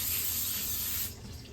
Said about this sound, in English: now I'm going to spray them again